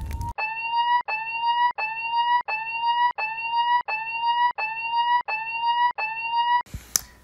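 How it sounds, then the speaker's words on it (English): A repeating electronic fire alarm tone, about nine identical loud blasts in steady rhythm, each separated by a brief gap, ending with a short burst of noise. "Someone go pull the fire alarm."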